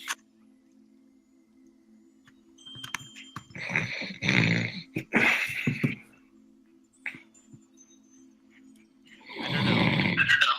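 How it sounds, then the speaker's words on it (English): Several loud, rasping snore sound-effect bursts separated by quiet gaps, with a low steady hum underneath. "I don't know why that snore sound triggers me so hard."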